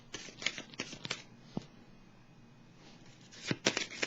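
Tarot cards laid down and handled on a spread during a reading: a run of crisp, close paper taps and slides in quick bursts, a short quiet pause, then another flurry of card snaps.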